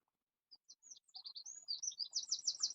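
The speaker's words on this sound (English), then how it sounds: "Oh, that's a beautiful bird." Quiet outdoor bird chirps start as a few sparse, high tweets, then quicken into a dense run of rapid calls, alone with no voices.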